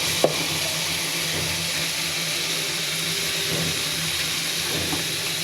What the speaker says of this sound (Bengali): তেল উঠে গিয়েছে, আমার মশলাটা ভাজা হয়ে গেছে।